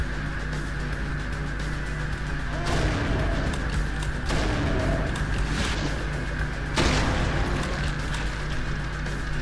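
A few sharp gunshot bursts in Brutal Doom on GZDoom, in a nuclear power plant level, punctuate a constant background hum, with a low voice murmuring faintly underneath.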